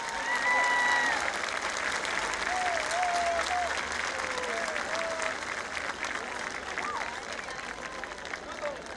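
A large festival crowd claps steadily for a singer, a loud, even wall of applause with scattered whistles and faint voices, easing slightly toward the end.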